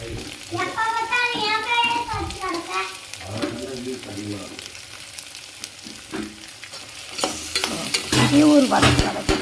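Finely chopped vegetables sautéing in a pan, with soft sizzling and intermittent stirring scrapes near the mic; someone talks over the first part, and louder clattering stirring comes toward the end.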